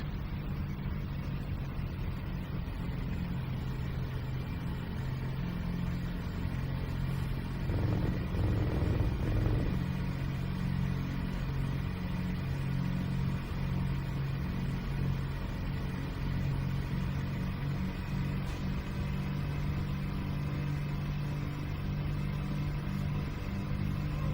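Two-stroke car engine in Gran Turismo 4 drones steadily at a low, rumbling pitch, swelling briefly with a rev near the middle before settling back into an even hum.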